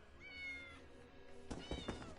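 Several cats meow in the game ESO, a couple of drawn-out calls early on, then a cluster of short, quick meows near the end, fairly close and faint, with no talking.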